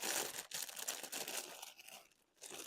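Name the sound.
plastic bag crinkling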